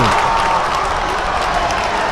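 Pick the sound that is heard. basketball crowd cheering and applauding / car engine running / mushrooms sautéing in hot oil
basketball crowd cheering and applauding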